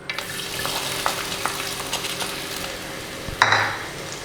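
Crushed ginger and garlic frying in hot coconut oil for duck curry, a steady close sizzle with light stirring taps and a louder clatter of a utensil against the pan near the end.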